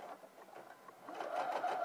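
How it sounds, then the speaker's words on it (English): A sewing machine stitches bias binding onto fabric seams, a quiet steady whirring hum that grows louder and busier toward the end, with no voices. "don't stitch onto the actual bias, because you want it to have that neat professional look"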